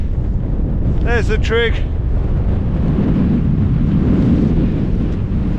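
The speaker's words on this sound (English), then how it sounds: "Oh, it's a bit windy like." Strong, constant wind on a winter hilltop, High Pike, buffets the microphone with a loud roar throughout, while someone speaks briefly near the start.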